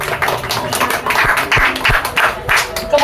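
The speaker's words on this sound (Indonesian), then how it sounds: "Tepuk tangan untuk Aulia" An audience at a young voters' political discussion forum in Magelang gives a short burst of applause for a participant; clapping is close, uneven and fairly loud, lasting about three seconds.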